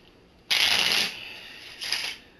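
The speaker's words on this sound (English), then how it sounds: "Let me get to shuffle this guy." A deck of cards is riffle-shuffled during a Bang! The Duel card game: one long crisp burst of flicking cards, then a shorter second riffle, close and alone.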